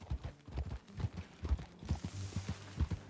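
Horses ridden along in Red Dead Redemption 2, with a brisk, uneven clip-clop of hooves close by and faint creaking of tack, no talking.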